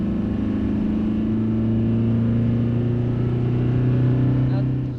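A 2.4-litre turbocharged diesel engine in a 2017 Toyota Hilux Invincible pickup revs and drones steadily at close range, its low rumble rising slightly in pitch before easing off.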